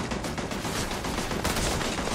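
Rapid turret gunfire from the video game Starfield rattles in dense, continuous bursts, loud and up close with no talking over it.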